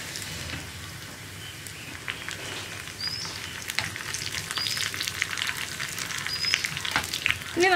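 Onions frying in a pan for a padavalanga parippu curry, a steady crackling sizzle broken by repeated scraping stirs that grow busier toward the end, with no voices.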